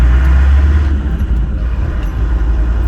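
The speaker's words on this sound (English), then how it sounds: "I hope you can hear me with the noise in the Defender here" Steady low engine rumble of a modified Land Rover Defender while driving, heard from inside the cabin, loud and continuous with a deep droning hum and no speech.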